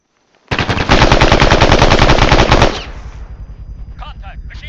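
Machine gun fire in the military shooter Arma 3: a sustained, loud rapid-fire burst of about two seconds that stops abruptly, then quieter rattling continues with faint voices behind it.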